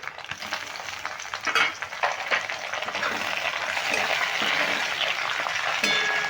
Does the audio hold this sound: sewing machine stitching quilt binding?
no